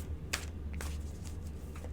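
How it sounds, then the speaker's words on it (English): A few quick riffling bursts of cards being shuffled, close by, over a steady low hum, with no talking. "Give them an extra shuffle there."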